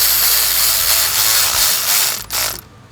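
A ratchet wrench snugs the bolts on a 2013 Volkswagen Beetle water pump, a loud close run of rapid pawl clicks that continues steadily before stopping abruptly near the end.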